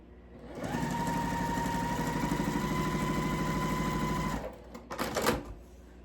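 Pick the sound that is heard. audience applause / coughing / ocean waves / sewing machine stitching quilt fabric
sewing machine stitching quilt fabric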